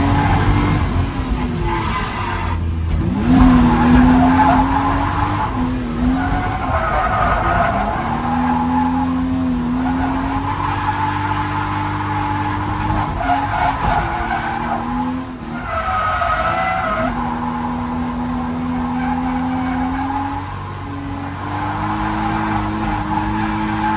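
A drift car with a worsening power steering fault, circling a track at a drift event, revs hard and squeals its tires in long sustained screeches. The engine note rises and falls in waves, loud and close, with brief dips between slides.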